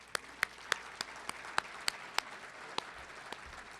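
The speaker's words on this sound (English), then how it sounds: "Please join me once again in a well-deserved round of applause for all of them." Scattered applause at a chamber of commerce dinner honoring scholarship recipients. Distinct individual claps stand out at a slow, uneven rhythm over a soft bed of lighter clapping, fairly faint and distant.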